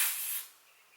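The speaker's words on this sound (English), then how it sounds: "I'm gonna spray some hairspray on it so we don't move." A single short burst of hairspray hisses onto a wig, loud and close at first, then tapering off quickly into a faint fading hiss.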